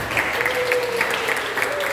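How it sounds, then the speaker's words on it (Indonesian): Loud, close applause from a crowd honouring a high school student council in Salatiga, Indonesia, with rapid dense clapping and a faint sustained tone and crowd murmur beneath. "Sekali lagi tepuk tangan untuk OSIS MPK SMA Negeri 3 Salatiga"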